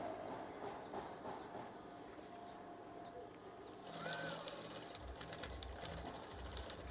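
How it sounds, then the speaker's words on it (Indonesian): Sewing machine stitching a fabric curtain tie, a steady mechanical whir running throughout with a louder, denser stretch in the second half; no talk. "Setelah itu jahit."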